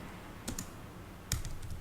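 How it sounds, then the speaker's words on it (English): A handful of quick keystrokes typing a command on a computer keyboard, close and fairly quiet, with short pauses between small clusters of taps. "I'll just type it out."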